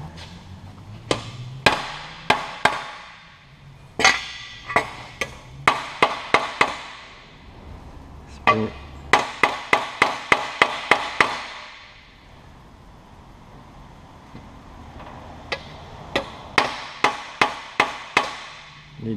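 Sharp metal hammer blows straightening the metal arms of a Pilates reformer during a repair, struck in quick bursts of several hits with short pauses between, close and loud.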